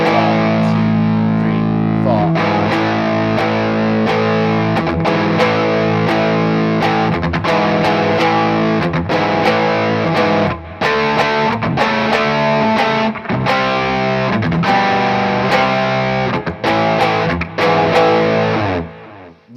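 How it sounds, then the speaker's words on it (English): Heavily distorted electric guitar plays a slash power chord on the offbeat, the and of beat four, in a dense, loud, sustained wall of sound with clipped chord stabs and brief gaps, and no voices. "if I was to play the slash chord on the and beat of 4,"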